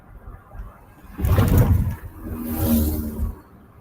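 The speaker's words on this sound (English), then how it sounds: "that weird looking truck that went by, that transports like big ass cauldrons of metal" A truck hauling large metal cauldrons passes close by near a steel mill, its engine swelling into a roar, easing briefly, then rumbling again before fading, with no talk over it.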